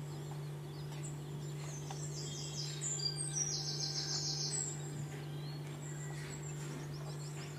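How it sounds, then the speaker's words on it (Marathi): Native village hen's chicks chirp in a cluster of thin, high peeps through the middle stretch, fairly close, over a steady low mechanical hum with no talking. "भारी पिलं आहेत एकदम"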